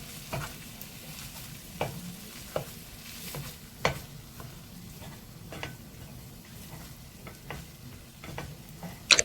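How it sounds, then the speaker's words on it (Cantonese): Cold rice frying in a hot wok with ginger while a spatula pokes and breaks it up: steady soft sizzle with sharp scraping clacks at irregular intervals, close and moderately quiet, no voices. "鑊鏟將佢篤開，將啲飯整鬆佢。"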